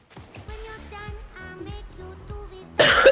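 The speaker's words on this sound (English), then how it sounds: "Quit coughing on me." A person coughs and clears their throat in short bursts amid a video game's musical score, with a louder rough burst near the end.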